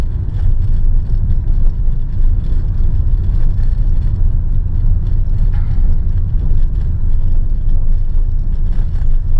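A car crawls slowly over a speed bump in first gear on a street at Perštýn. A steady, loud, low engine and road rumble continues throughout with no speech.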